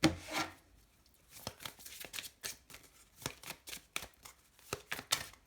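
A deck of tarot cards is cut and handled, giving soft rustles and a run of quick, close papery slaps and taps at an irregular rhythm. The room is otherwise quiet.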